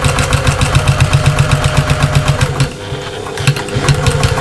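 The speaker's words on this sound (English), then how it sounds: "So I am going to stitch all the way around." A sewing machine runs in fast, even bursts as it stitches through the layers of a small fabric backpack, loud and close with a brief pause partway through.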